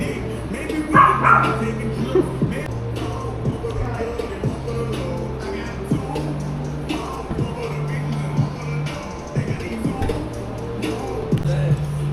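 Small puppies yipping and barking repeatedly nearby in a Bangkok dog cafe over a steady low hum, with busy indoor background noise and some movement.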